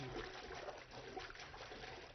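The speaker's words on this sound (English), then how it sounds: "You use lukewarm water" Lukewarm tap water, on the cool side, running steadily into a basin of soapy dish suds for washing a wild turkey tail, a continuous close trickle and splash with no talking.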